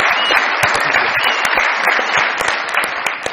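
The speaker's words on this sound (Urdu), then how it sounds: "آپ سب لوگوں کی بہت ساری تالیوں میں ہم ویلکم کرتے ہیں" A studio audience at a Pakistani comedy talk show bursts into sustained, loud applause welcoming a guest, dense clapping filling the room without a break.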